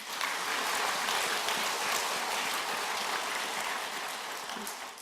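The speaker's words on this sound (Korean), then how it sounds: "우리 박수 한번 합시다." A church congregation claps together during a Sunday worship service, a dense, steady wash of applause that holds loud for about five seconds before easing slightly at the end, with no voices over it.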